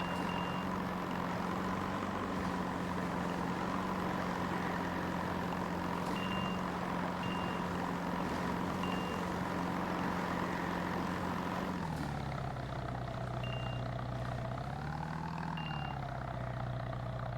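Video game sounds from an Xbox pro fishing challenge, with sparse short electronic beeps repeating over a steady droning engine hum whose pitch dips and swells near the end.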